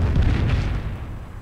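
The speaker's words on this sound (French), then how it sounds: "Tiens déjà on va bombarder tout ça." A deep, rumbling artillery bombardment explosion booms in the video game Company of Heroes, a heavy low roar that swells and slowly fades over about a second and a half.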